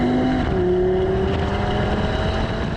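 An Audi TT RS coupe's five-cylinder engine pulls hard under acceleration, a steady droning roar with rising tonal notes heard from inside the car, loud and without speech.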